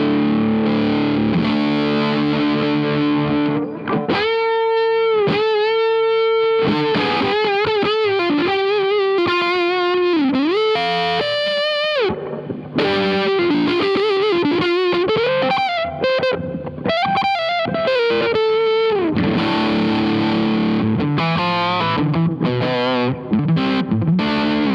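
Distorted electric guitar played through a Bogner Ecstasy Red amplifier on its normal channel, loud and close, with sustained riffs and bent lead notes, some chorus-like shimmer, and brief gaps between phrases, with no talking.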